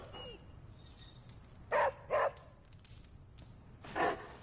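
A dog gives three short, close barks, two in quick succession and one more after a pause, over a quiet background.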